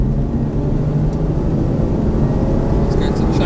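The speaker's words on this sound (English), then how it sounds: "So squeezing the throttle now and accelerating away down the straight." An Aston Martin DB9 on a track straight, its engine droning steadily from inside the cabin as it accelerates under throttle, a continuous loud rumble with no break.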